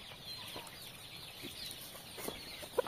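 A young chicken clucking faintly outdoors, a few soft scattered clucks over a quiet, hissy background, with one slightly louder call near the end.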